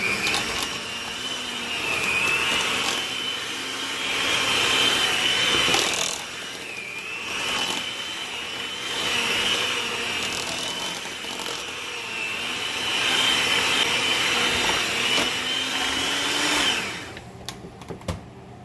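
An electric mixer mashes a bowl of potatoes with a continuous, loud whirring whine that wavers as the beaters work. It runs steadily for most of the stretch and then cuts off near the end.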